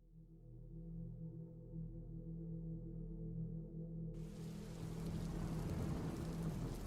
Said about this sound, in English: The rain won't stop.